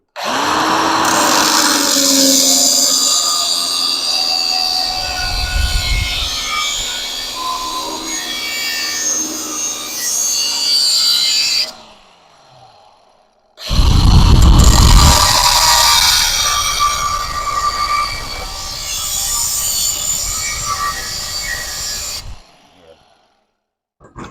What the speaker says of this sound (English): I'll run like a dress line with the cutoff wheel first, just to get the blade set and running good.